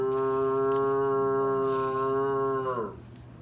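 A human voice imitates a cow's moo during a read-aloud to students, one long harmonic lowing call about three seconds long that drops and fades at the end, heard alone and close.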